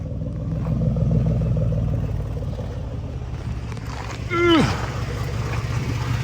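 A warmed-up Ford F150 with its catalytic converters reinstalled on new piping in place of straight dual pipes idles with a steady, fairly quiet low exhaust drone, with a brief rising and falling whine partway through.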